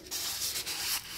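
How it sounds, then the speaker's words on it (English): Painted Christmas baubles are scuffed with 600 grit sandpaper, a close, steady rasping rub that runs continuously for about a second with slight dips between strokes. "I'm just rubbing it down with some what grit is this? 600 grit paper"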